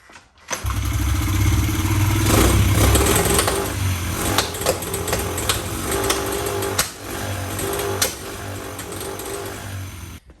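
A Honda XR70 dirt bike engine, recently freed from seizing and fitted with a new spark plug, fires up and runs loud and close for about ten seconds, with uneven revs and sharp mechanical rattles.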